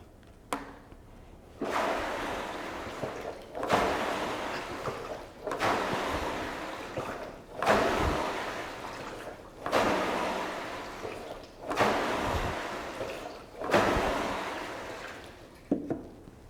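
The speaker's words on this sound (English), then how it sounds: "the WalkingPad sounds like other water rowers. I think that water noise kind of sounds soothing" Rhythmic whooshing surges of water from a WalkingPad WR1 foldable water rowing machine, about seven strokes at an even pace, each swelling then fading, with no talking.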